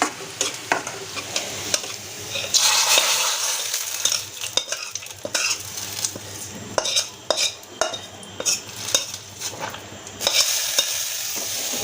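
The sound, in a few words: dal being tempered with sizzling spices in hot oil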